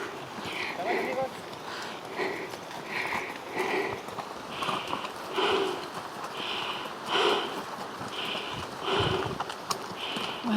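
Horses plod along a mountain trail near Laguna Humantay in Peru, a steady clip-clop of hooves with snorting and sniffing, heard close throughout the clip beneath voices talking.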